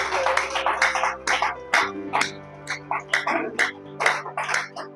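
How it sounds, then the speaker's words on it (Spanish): A church congregation gives farewell applause at the close of a worship service: rhythmic claps sound over steady voices and tones, moderately loud. "Despidámonos con un fuerte aplauso"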